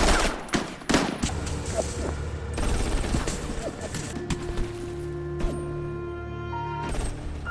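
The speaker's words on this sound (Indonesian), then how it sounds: "tentara Korut sudah ramai menunggu di bawah dan langsung melepaskan tembakan ke semua tentara pelajar" A sustained burst of gunfire in a war film battle scene, rapid overlapping shots crackling close and loud, with a few heavier reports and a steady background rumble.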